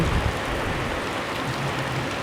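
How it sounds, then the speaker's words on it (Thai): Steady, heavy rain pours down outside a 7-Eleven in a constant broadband hiss, with no talking over it. "ติดฝนครับ อยู่ห้างเซเว่น"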